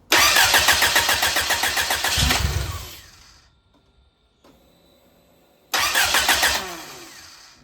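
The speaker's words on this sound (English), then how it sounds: "Now for the first startup." A rebuilt Mitsubishi Sigma Turbo engine cranks and fires for its first start, running loud and rough for about three seconds before cutting out, then catching again near the end with a strong, pulsing roar.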